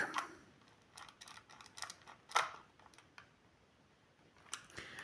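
Small screws being driven into a plastic multimeter casing in a crisscross pattern: faint scattered clicks and scraping ticks of the screwdriver, several short bursts spread irregularly, quiet and close.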